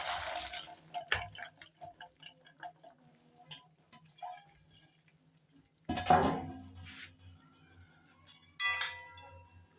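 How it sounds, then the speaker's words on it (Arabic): Metal spoon stirring blanched vegetables in a pot of boiling water in a home kitchen: scattered clinks and scrapes against the pot over a soft bubbling background, with a few louder knocks, close and fairly quiet. "ومعايا معلقه اقلب بها كده"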